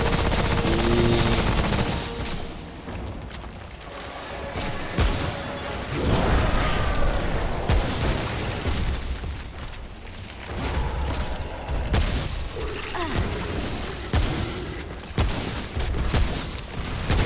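Gunfire in the video game Remnant: From the Ashes during a world boss fight against The Ent, with loud sustained bursts of shots and booms that keep going for the whole stretch.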